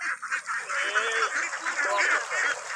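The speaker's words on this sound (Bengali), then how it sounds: "দেখতে পাচ্ছেন হাঁসগুলো দৌড়াদৌড়ি চারিদিকে বিচরণ করতেছে" A flock of ducks on a duck farm quacks and honks continuously at close range, overlapping calls in a busy chorus with no clear gaps.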